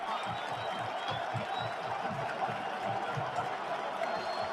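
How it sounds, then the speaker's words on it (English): A stadium crowd at a Michigan vs. Ohio State college football game in Columbus keeps up a steady, dense roar throughout, with a commentator's voice running over it. "The crowd on their feet here in Columbus."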